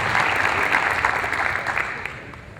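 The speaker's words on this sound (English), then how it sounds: "Let's give him a big round of applause." Crowd applause at an outdoor community Mayor's Night Out gathering, a steady wash of many hands clapping that holds loud and even for a few seconds, then begins to thin slightly toward the end.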